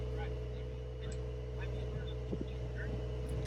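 A 2020 Porsche 911 Carrera 4S idles with a deep, steady exhaust rumble that holds a constant low drone throughout, with faint background voices.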